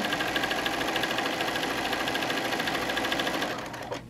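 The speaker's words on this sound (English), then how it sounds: "And we're just going to sew" A sewing machine runs at a steady fast pace, stitching quilt fabric with a close, buzzing mechanical rhythm that slows and stops near the end.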